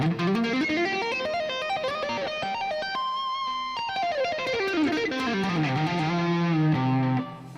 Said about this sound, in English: You can also do these like tapped runs.